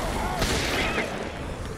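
A sharp burst of gunfire in The Evil Within, a single loud report with a short tail, amid background game noise and a voice.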